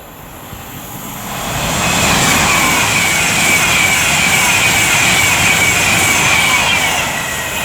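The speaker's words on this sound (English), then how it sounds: "now approaching with 390-104 for Avanti West Coast, working 1 Alpha 57 from Manchester Piccadilly to London Euston" Avanti West Coast Class 390 Pendolino electric train on the West Coast Main Line at Lichfield Trent Valley, approaching with a loud, steady rising roar that builds over the first two seconds and then holds, with a faint high whine on top.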